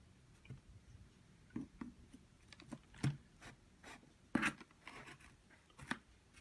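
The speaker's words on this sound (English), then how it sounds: "We will cut it open and get right back to the video" A cardboard box for a Pixel 3 XL phone being sliced open, heard as a quiet run of scattered clicks, scrapes and small cuts with brief louder snaps in a hushed room.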